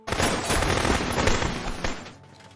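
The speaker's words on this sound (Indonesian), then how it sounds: "Tidak lama dari itu pasukan khusus datang, dan terjadilah baku tembak." Dense, loud gunfire from a shootout between special forces in a Korean action film, a continuous rapid volley of shots that fades out near the end.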